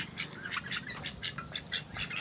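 Several ducks quack and squawk in a steady, overlapping chorus at moderate distance, with a low background rumble.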